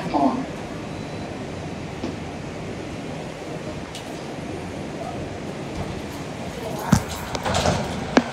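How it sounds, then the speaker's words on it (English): An R142 New York subway train on the 5 local rumbles steadily at Gun Hill Road station, with a few sharp clanks and squeals toward the end and a recorded announcement voice over it. "This is an Eastchester, Dyer Avenue bound, 5 local train."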